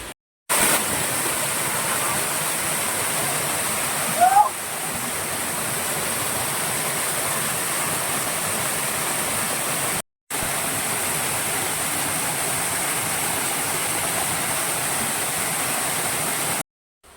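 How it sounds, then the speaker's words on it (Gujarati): Water rushes steadily as a stream flows at Nazarmata waterfall near Shivrajpur, a loud, continuous broadband roar heard up close with one brief dip partway through. "અહીંયાથી ઝરણામાં વહેતું પાણી આવે છે"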